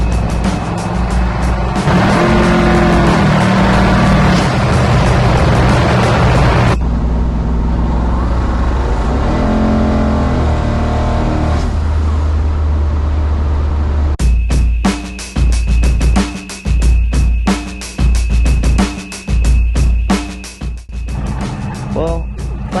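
Engine of a twin-turbo LS-powered Nova wagon droning loud from inside the car while it drives, the tone shifting as it accelerates and eases off, then turning choppier near the end.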